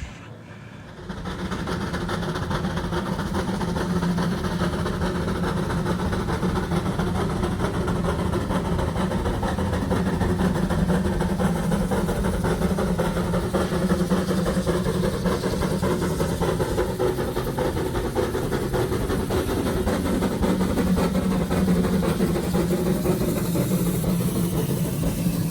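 Live steam Shay locomotive running on a model railroad, a steady continuous rumble of engine and rolling wheels held at an even level throughout, with no talk.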